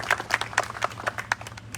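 An audience claps in a quick, uneven run of separate hand claps at a modest level, like brief applause at a motivational gathering.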